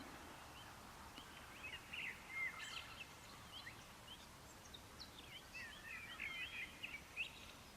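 Faint birdsong drifts through a cold, sunny spring morning in the mountains, scattered chirps and short warbling phrases over a soft background hush.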